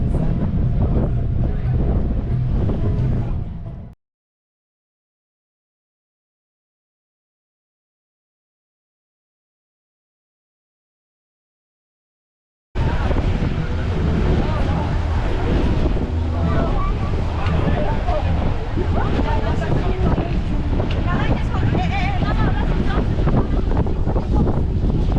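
Strong wind buffets the microphone aboard a cruise boat on the water, a loud continuous roar that cuts out completely for several seconds in the middle and then resumes just as loud.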